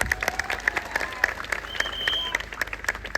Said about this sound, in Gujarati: એકવાર જોરથી તાળીઓ વધાવી લઈએ એમને